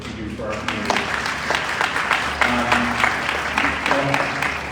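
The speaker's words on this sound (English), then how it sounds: "I think you do deserve a round of applause for everything that you do for our community" Audience applause at an all-candidates election meeting for Burlington North-Milton West, a sustained indoor clapping with voices mixed in throughout.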